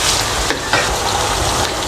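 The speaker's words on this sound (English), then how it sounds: "I'm equally going to be adding some chopped parsley, and then just give it a good stir" Paella with freshly added chopped parsley is stirred in a hot pan, giving a steady loud sizzle and frying hiss with a couple of scraping spoon strokes through it.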